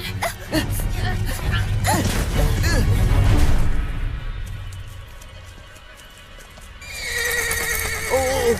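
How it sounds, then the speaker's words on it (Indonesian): A frightened horse neighs loudly on a mountain path, with clopping hooves and a stamping scuffle at first, then quieter movement before another shrill whinny near the end. "Oh, kenapa kuda ini ketakutan?"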